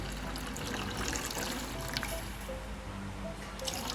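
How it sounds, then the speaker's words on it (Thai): Clean water poured into coconut milk in a pan to make thin coconut milk for a pork and fermented-fish relish, a steady close trickle and splash with no talking. "ก็เติมน้ำสะอาดลงไปนะครับผม"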